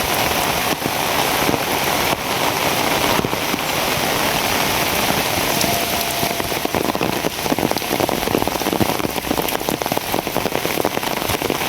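Steady, dense rain pours down in a rural Bangladeshi riverside village, a constant close hiss of drops striking surfaces that runs unbroken throughout with no voices.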